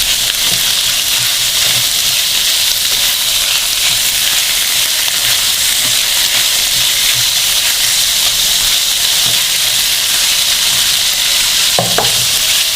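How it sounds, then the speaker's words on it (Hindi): Chicken cheese samosa filling stirred in a hot pan, a steady loud sizzle and hiss of frying with scraping spoon strokes throughout and a few louder clinks near the end. "इसको अच्छी तरह मिक्स करेंगे।"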